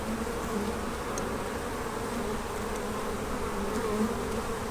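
Honey bees buzzing steadily as a nuc colony and its queen are moved into a Maisemore commercial poly hive, a dense, continuous close-up hum with a few bees passing near, no talking.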